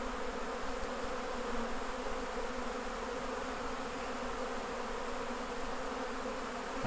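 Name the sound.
honey bees buzzing around harvested honey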